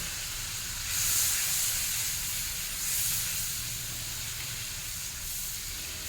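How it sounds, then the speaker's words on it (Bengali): Water and spices boiling in a pan of chicken, a steady close hissing bubble with gentle surges of sizzle, no voices. "খুব ভালোভাবে ফুটে গেছে"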